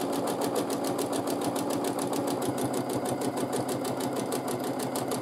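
A sewing machine doing free-motion quilting runs continuously with a fast, even stitching patter, close and steady for the whole stretch with no pauses.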